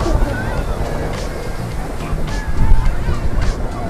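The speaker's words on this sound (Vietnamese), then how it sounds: "Những đợt sóng vỗ cả nhà xem sóng." Sea waves wash onto a crowded beach at Vung Tau during a high tide, a loud continuous rushing surge with wind buffeting the microphone and a swell building near the end.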